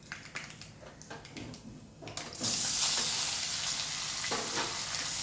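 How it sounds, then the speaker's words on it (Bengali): A pinch of asafoetida hits hot oil and a loud frying sizzle bursts up midway, after a quieter stretch of kitchen clatter, then holds as a steady close hiss. "এখানে দিয়ে দেবো আমি একটুখানি হিং ফোড়ন।"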